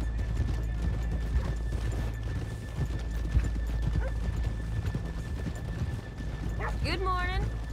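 Horses in Red Dead Redemption 2 clop steadily along a town street under a continuous low rumble, with a distinct whinny near the end; a voice and a dog's barking mix faintly into the scene.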